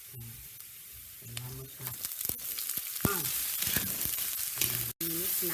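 Banana heart dropped into a hot pan for vegetarian adobo, setting off a loud, close sizzle that builds and holds steady after a brief stir, with someone talking over the start.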